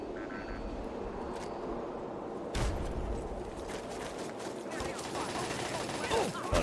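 Automated turrets in a Fallout game fire bursts of gunfire, rapid crackling volleys that start abruptly partway through and continue over a steady game background at moderate loudness.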